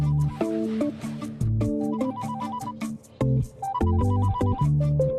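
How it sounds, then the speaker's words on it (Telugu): A telephone ringtone plays as a looping melodic tune of repeated tonal phrases, loud and steady with a couple of brief gaps, with no one talking over it. "సర్లే గాని ఆ ఫోన్ చూడు."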